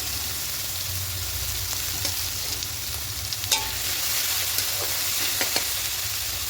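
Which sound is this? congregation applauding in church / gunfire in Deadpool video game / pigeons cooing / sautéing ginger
sautéing ginger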